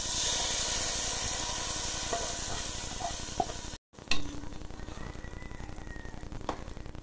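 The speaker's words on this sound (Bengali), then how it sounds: "বাগারটা এখন ঢেলে দিলাম।" Browned onion tempering hits cooked dal with a loud, hissing sizzle that fades to steady bubbling frying after a brief pause, close and with no talk.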